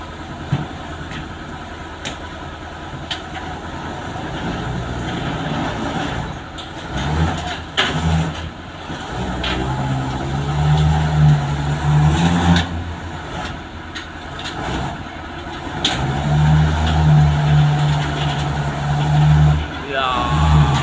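A car carrier truck hauling cars rumbles past, its low engine drone rising and falling with revving swells, heard from nearby with road noise.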